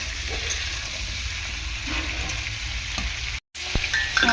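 Tomatoes and vegetables fry in oil with a steady, close sizzle and crackle, punctuated by stirring scrapes, with one brief silent cut near the end.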